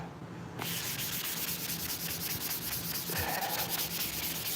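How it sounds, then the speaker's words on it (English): Trailer sway control parts get sanded to strip off brake dust, giving a steady, loud abrasive rubbing that starts after a brief quiet moment and carries on without a break. "give them a little bit of a sand and a clean so your sway control works like it's supposed to"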